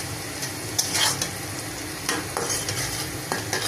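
Onions browning in a hot pan in a home kitchen, a steady close sizzle broken by the scrape and clatter of stirring, with no voices.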